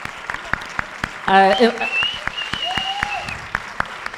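An audience at a film screening Q&A for the movie Incontrolable (I Swear), with the director present, claps steadily in a room as a guest stands; the applause sounds like even, evenly spaced claps, and voices are heard over it.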